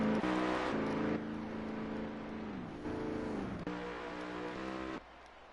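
A race car in a sim racing game at Pocono, pitting during a pro series race. Its engine drones loudly and steadily, with a few abrupt drops in pitch as the throttle eases, and no voices are heard.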